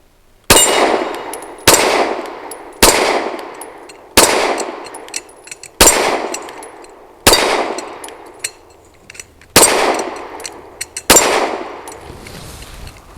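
A Grand Power Q100 Mk23 pistol fires eight Sterling 115-grain rounds at a steady pace, each loud, sharp report followed by metallic ringing and a decaying tail, with no voices.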